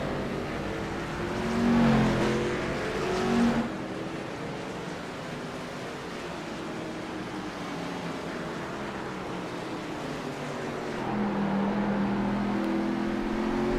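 Stock cars race at Martinsville Speedway in the iRacing simulator, their engines droning steadily with rising and falling pitch sweeps as cars rev through the laps, over a constant wash of engine noise.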